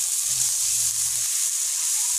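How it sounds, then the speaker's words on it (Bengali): Onion paste, chopped chilli and mustard paste frying in a pan with a little water added, a steady bright sizzle and hiss heard alone and close. "এই যে সর্ষে বাটা দিয়ে দিলাম, সামান্য একটু জল দিয়ে কষিয়ে নেব একটু।"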